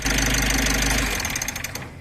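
A Mitsubishi L300 van diesel engine idles close by with a steady rumbling clatter, then the rhythm loosens and slows as it begins winding down after being switched off.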